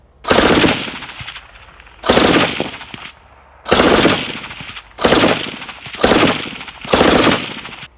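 Six short, loud bursts from a PKM machine gun fitted with a sound moderator, muffled and suppressed in character, separated by brief pauses, close by and without voices.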